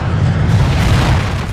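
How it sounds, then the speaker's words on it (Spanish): A sound-effect explosion rocks an airliner in flight: a loud, sustained low boom with deep rumbling that fills the whole stretch, with no voices over it. "una explosión sacudió el avión"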